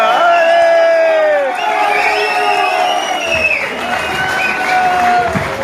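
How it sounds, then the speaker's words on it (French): Wedding guests cheer and applaud loudly, with long whoops, shouts and children's cries rising above a bed of clapping, the voices strongest at the start and then settling into a lively, continuous crowd roar. "Merci de les accueillir avec des applaudissements dignes de ce moment historique."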